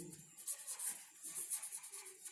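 A pen scratches across paper in quick, uneven strokes as cash flow figures are written out, close and faint with no voices.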